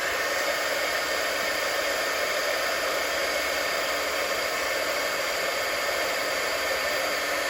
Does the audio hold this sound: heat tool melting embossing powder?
yes